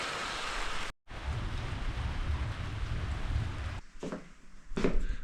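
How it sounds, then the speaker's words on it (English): Rain falls during a power outage on a trip toward Colca Canyon and Chivay in Peru, a steady soft patter that cuts out briefly, followed by a few rustling knocks near the end. "raining again"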